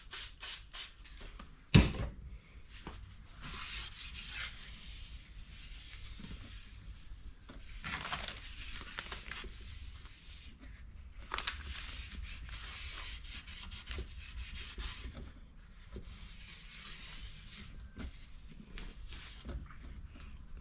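A rag dampened with brake cleaner being wiped over an engine part on an SRT-4: quiet, continuous rubbing and scrubbing strokes in uneven bursts over about twenty seconds, with one sharp knock early on.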